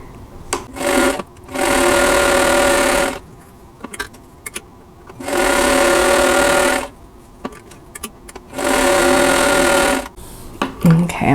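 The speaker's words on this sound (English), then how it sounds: "I'm just going to chain piece all of these together" Sewing machine chain piecing quilt blocks, three loud close bursts of steady stitching separated by quieter pauses filled with fabric handling and small clicks.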